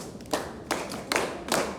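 A few sharp, evenly spaced claps sound in a classroom, roughly four distinct strikes over a quiet room background, sparse rather than a full round of applause.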